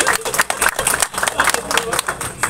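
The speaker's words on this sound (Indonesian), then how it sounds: "Tepuk tangan dulu tuh Pak Fauzi nih." Applause at an Islamic religious lecture event in Jember, a crowd clapping steadily with broadband bursts, fairly loud and continuous, with some talk mixed in.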